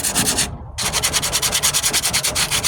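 40-grit sandpaper scrubs over Bondo body filler on a 1998 Ford Ranger tailgate under rust repair, in quick, even back-and-forth strokes. A brief pause breaks the rhythm early on, then the loud, close rasping carries on alone.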